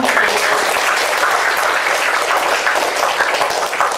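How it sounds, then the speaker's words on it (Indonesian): An audience at a school competition event in Ogan Ilir applauds, a thick, even roar of many clapping hands filling the room steadily throughout, with no talk over it. "Tepuk tangan"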